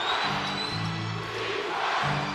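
Basketball crowd at Madison Square Garden during a tense Knicks versus Nets game, a steady loud roar of the arena filling the space, rising slightly, with a commentator talking over it.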